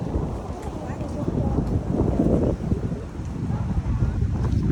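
Loud, blustery wind buffets the microphone in a constant low rumble that swells and dips, outdoors at the Imperial Palace gardens in Tokyo.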